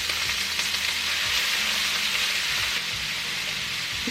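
Dried meat and leek fry in oil in a deep pan, with a steady, dense sizzle and crackle heard close and alone, along with a few faint low bumps of stirring.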